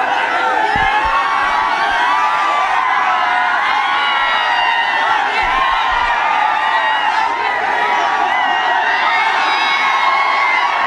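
A large crowd at a political rally cheers and shouts continuously, a loud dense roar with whoops rising above it throughout and a few low thumps in the background.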